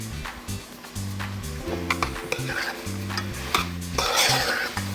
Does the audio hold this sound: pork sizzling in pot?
yes